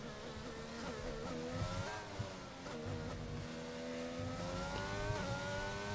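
A race car engine revs in a PS4 racing game, a steady, fairly faint buzzing whine that rises and falls in pitch with throttle changes and runs continuously without speech.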